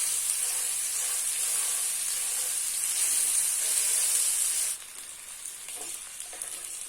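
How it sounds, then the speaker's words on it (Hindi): Mutton chops frying on their second side in a pan, a steady dense sizzle and hiss close to the microphone that softens slightly near the end. "अब हम इस साइड से भी इसको कुक कर लेंगे।"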